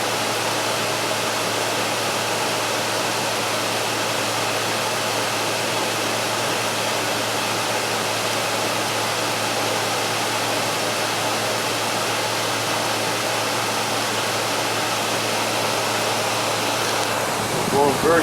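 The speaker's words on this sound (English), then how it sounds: "There we go on the compressor." A Frigidaire air conditioner's compressor runs while the unit blows air, giving a steady, loud broadband rushing hum that stays constant throughout, with a brief change near the end.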